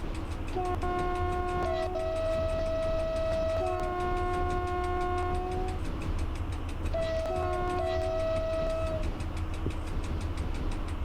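A simulated train horn in the EU07 train simulator game sounds in two long blasts a few seconds apart, loud over a constant low rumbling engine drone.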